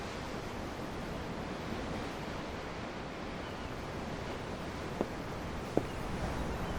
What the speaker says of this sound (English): Yeah. The waves. They help me think.